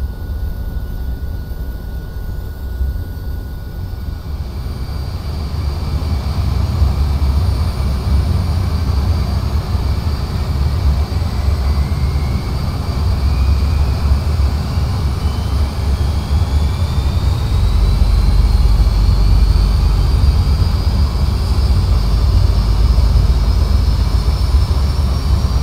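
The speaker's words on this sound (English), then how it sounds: "So again, switching over to the number two engine air switch and we'll hit the starter." Avro Vulcan number two engine spooling up in a flight simulator: a steady low rumble builds with a rising turbine whine climbing in pitch, growing louder and holding a continuous roar with no talk.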